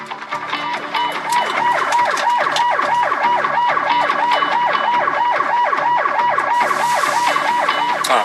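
A wailing ambulance siren cycles rapidly and continuously, loud and close, with a steady rising-falling pattern throughout.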